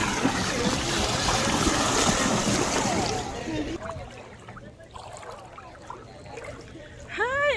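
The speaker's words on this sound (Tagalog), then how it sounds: "Here, this is the boat going for snorkeling." Water sloshing and splashing from a snorkeling tour boat at Akumal, Mexico, loud and choppy at first and then dropping to quieter trickles, with voices heard over it.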